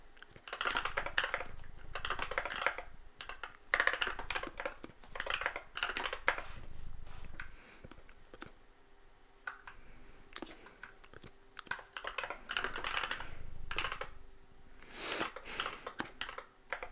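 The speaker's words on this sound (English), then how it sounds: "my other 980 layout keyboard, the one I'm actually typing on right now" Typing on a 980-layout mechanical computer keyboard gives rapid clicking keystrokes in bursts, with short pauses between them, fairly quiet and close, with no voices.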